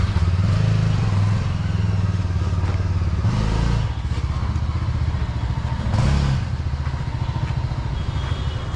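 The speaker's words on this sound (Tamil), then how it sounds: "நம்ம வண்டி ஆன் பண்ணதுமே வந்து இங்கே ரேடியேட்டர் வந்து ஃபேன் பயங்கர ஸ்பீடில் ரன் ஆக ஆரம்பிச்சிருது" A Yezdi Adventure motorcycle idles steadily close by with its radiator fan spinning hard, a continuous low engine drone with a couple of brief louder surges and some clattering, no voices.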